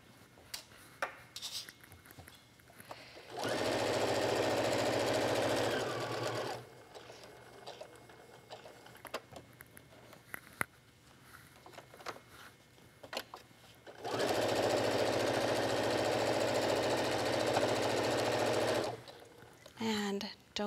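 Sewing machine stitching a fabric card wallet, with two long steady whirring runs of rapid stitching, each several seconds, close and loud. A voice talks in the quieter gaps between the runs.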